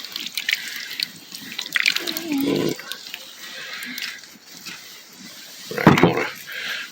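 A thick barbecue marinade slurry pours and splashes over meat in a bowl, a wet, gurgling stream with a louder slosh near the end, while people chat in the background.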